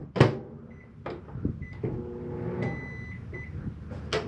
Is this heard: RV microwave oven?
yes